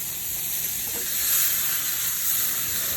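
Butter sizzling in a hot pan with seasoned wagyu beef cooked outdoors, a steady bright hiss and crackle that holds for several seconds, fairly close.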